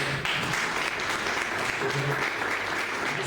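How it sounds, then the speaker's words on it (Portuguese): A church congregation applauds in a continuous, even roar of clapping heard from within the hall, with faint voices mixed in. "As palmas adoram o Senhor."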